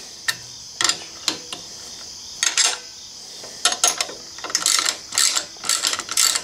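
A wrench snugs nylock nuts on a Camel ADV brace peg support for a Honda Africa Twin CRF1000L, giving close, crisp ratcheting clicks in short irregular bursts separated by pauses, with no voices.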